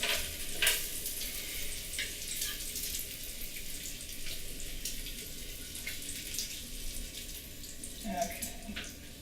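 Pancake batter poured over bacon sizzling in a skillet: a soft, fairly faint crackle and hiss with a pouring wash and a few clinks, no voices.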